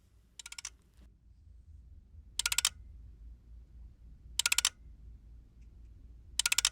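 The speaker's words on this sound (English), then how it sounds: "you can hear a clicking sound. It happens every 2 seconds, and that's the time when Marty actually records the measurement of the sensors" A Marty climate sensor device measuring the urban environment in Phoenix gives soft, crisp clicks, a short burst roughly every two seconds over a faint low background hum.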